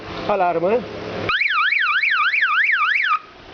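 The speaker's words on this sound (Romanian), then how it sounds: "Alarmă" A short vocal sound opens, then a bicycle's loud electronic alarm warbles rapidly up and down in a rising-falling siren pattern for about two seconds before cutting off.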